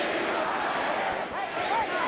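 A boxing arena crowd of more than 12,000 roars steadily throughout, a thick, continuous wash of noise with a brief swell, while a commentator talks over it.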